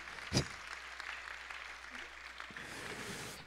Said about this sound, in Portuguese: Quem pode dar outra salva de palmas para o Senhor?